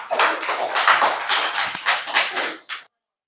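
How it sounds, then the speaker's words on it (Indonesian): A classroom of students gives a short round of clapping for a classmate after her presentation. Brisk, close claps come in quick uneven bursts, then stop abruptly. "tepuk tangan buat Cahya."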